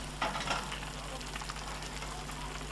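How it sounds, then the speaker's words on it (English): Sausages hit a hot pot on a kamado BBQ, setting off a faint, steady sizzle and frying crackle, with a couple of brief louder spits as they go in. "next we're going to add the sausages, or as many as we can"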